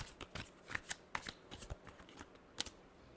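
Tarot cards being shuffled by hand, a quick run of crisp riffling snaps and slaps in uneven bursts, close and fairly quiet, with no voice.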